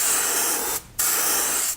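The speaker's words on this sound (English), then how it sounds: "we're gonna spray just about to the mid-lateral line" An airbrush sprays paint onto a pike fishing lure in two steady hissing bursts separated by a short pause, close and clear with no talk.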